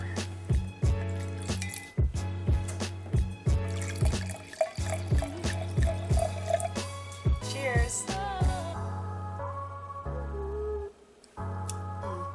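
Wine pours from an opened twist-off bottle in a home kitchen: a steady rhythmic glugging of liquid, then a thinner trickle, close and clear with no talking.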